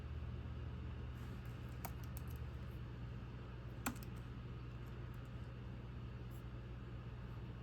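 Two sharp computer mouse clicks, a couple of seconds apart, while a drop-down menu is opened, heard close over a steady low background hum.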